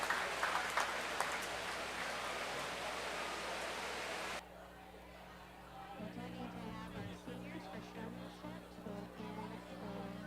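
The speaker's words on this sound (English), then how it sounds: "Let's give all these exhibitors a round of applause." Broadband applause from a county fair audience at a market beef show, loud and steady for about four seconds, then dropping to a lower murmur of crowd noise and a low hum.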